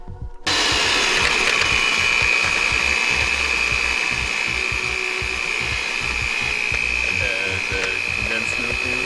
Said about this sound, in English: Now we're gonna whisk.